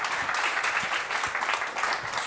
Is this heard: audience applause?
yes